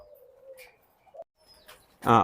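Doves at a breeding farm give soft, low coos, one drawn-out call and a few shorter ones, spaced apart, before a person's voice cuts in loudly at the end.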